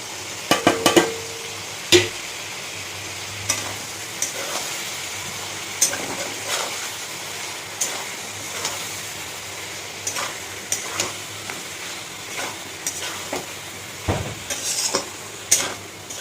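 Red amaranth stems sauté in a pan with ginger paste, cumin powder, chilli powder and turmeric: a low, steady sizzle punctuated by regular clinks and scrapes of a spatula against the pan, close by.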